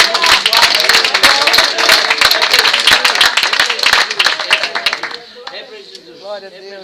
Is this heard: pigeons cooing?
no